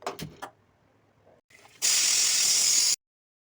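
A pressure cooker lets off a loud, steady hiss of steam for about a second while chicken soup cooks, after a few soft kitchen clatters and a short faint hiss.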